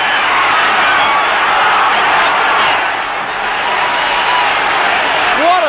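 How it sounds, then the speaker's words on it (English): A boxing arena crowd roars during the Holmes vs Shavers fight, a broad, sustained wall of cheering that stays loud and steady, dipping slightly midway, with a voice talking over it. "the crowd really spurring Shavers on"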